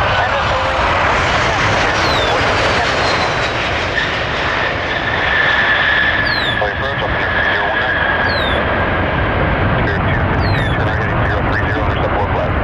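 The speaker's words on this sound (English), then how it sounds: "Several airplanes heading over here to take off" Loud jet engine roar fills the scene at Cleveland airport, a broad steady rush with a rising whine, as an airplane powers up nearby; faint voices blend into the noise.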